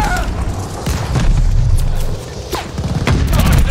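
Mortar shells exploding in Call of Duty: Vanguard, a run of loud deep booms and crackling bursts rolling one after another, with a few sharp gunfire-like cracks toward the end and brief shouting mixed in.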